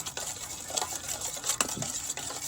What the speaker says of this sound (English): And now you're gonna get your cute little whisk and you're just gonna whisk away.